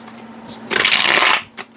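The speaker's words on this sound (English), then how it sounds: "Ugh, that was a horrible shuffle." A brisk riffle shuffle of tarot cards, a short loud burst of flapping clatter lasting about half a second, close to the listener, with a softer tap after.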